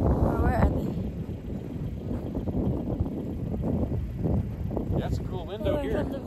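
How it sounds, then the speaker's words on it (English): Wind sweeps across a big frozen lake at Cold Lake, Alberta, buffeting the microphone in a steady, loud low roar that runs throughout, with faint voices now and then. "It's windy."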